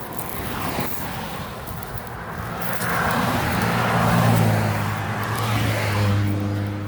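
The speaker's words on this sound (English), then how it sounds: "Lots of traffic." Cars pass on a road beside an orchard, a broad rushing whoosh that swells and fades as vehicles go by, with one engine's hum rising and falling nearby.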